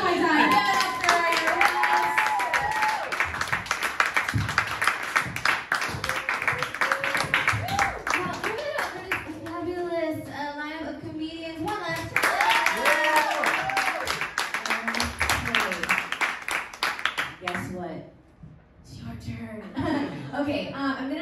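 Comedy club crowd clapping and cheering for a comic, sustained and loud, with a host's voice and laughter running over it almost throughout.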